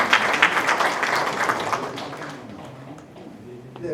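Congregation applauding at a Korean Presbyterian men's fellowship general assembly, a dense burst of clapping that starts strong and fades after about two seconds, with voices murmuring beneath.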